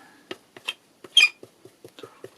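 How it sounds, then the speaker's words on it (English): Sharp squeaking from a tool dragged across a gessoed surface while painting a background, several short squeaks and bursts over a couple of seconds, close and fairly loud with no talk. "Sorry about the squeak."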